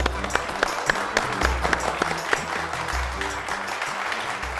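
Studio audience clapping on an Odia television reality quiz show, a loud, steady wash of many hands with sharp individual claps popping out, continuous through the moment with low background tones underneath.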